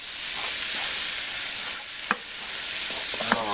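Cabbage and onions fry in a pan with a steady, close, broadband sizzle, and a couple of brief clicks from stirring break through near the end.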